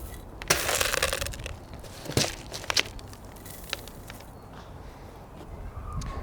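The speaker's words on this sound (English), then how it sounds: "we can add a layer of mulch. I'm using gravel." Gravel mulch spread in a thin layer over compost in a garden container, heard as scattered crunchy rattles and grainy pours spread through the clip, close by, with no talking.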